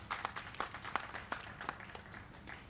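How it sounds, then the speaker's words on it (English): An audience at a Kyambogo University graduation gives a round of applause, scattered claps forming a light, uneven patter heard from a distance at modest volume. "You deserve a round of applause."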